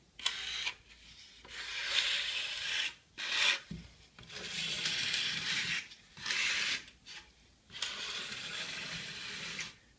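Steady rasping strokes of sandpaper on a block scraping over a rough aircraft wing aileron, coming in bursts separated by short pauses, close and fairly loud, no voices.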